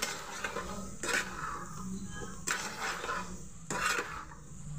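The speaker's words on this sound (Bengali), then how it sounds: "এবার আমি রাজমাগুলো দিয়ে দিলাম" Boiled kidney beans tipped from a bowl into spiced masala in a pan, giving three distinct clattering bursts of utensil against cookware with soft stirring and scraping between them, close by and fairly quiet.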